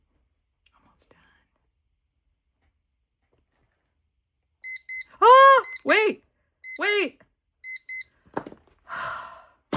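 A kitchen-style countdown timer beeps at the end of its run, several evenly spaced bursts of bright repeated tones, with a short whispered remark before them and some rustling noise afterwards.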